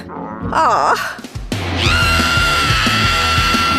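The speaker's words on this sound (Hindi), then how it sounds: "इसे कौन चिल्ला रहा है?" A shrill, wavering scream rises and falls for about half a second, followed by a loud sustained tonal sound that fills the rest of the moment, with no speech.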